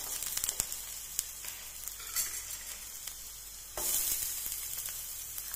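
Ginger, green chili and onion sautéing in hot oil for egg thoran, a steady loud sizzle with clinks and scrapes of a stirring spoon against the pan, the frying swelling brighter partway through.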